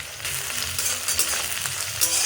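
Onions and dried chilies sizzle steadily in a hot pan for a couple of seconds, a close, continuous frying hiss broken by faint stirring scrapes, with no voices.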